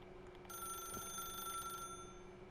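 A telephone rings in The Stanley Parable video game, a steady electronic bell tone sounding continuously for about a second and a half over a low ambient hum, with no voices.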